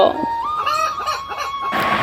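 Chickens cluck close by at a chicken farm in a cartoon, with a quick burst of several squawking clucks over a faint steady tone, and a rougher flurry of cackling at the end.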